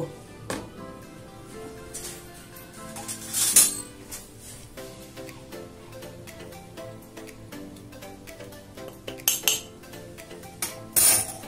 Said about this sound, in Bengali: দুধ দিয়ে কিন্তু নাড়তে থাকবেন